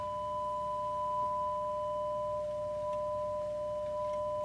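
Steady pure sine tones sounding inside an air column resonance tube, two sustained pitches held evenly and loud throughout with no talking.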